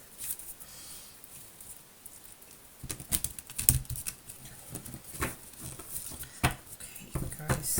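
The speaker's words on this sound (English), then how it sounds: "I'll do one more shuffle." A deck of tarot-style cards being shuffled by hand, quiet at first and then a busy run of rapid papery riffles and taps that grows denser and louder, close to the listener with no clear talking.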